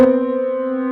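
A dissonant sustained chord built around a clashing minor second rings out alone, loud and steady for about a second before cutting off.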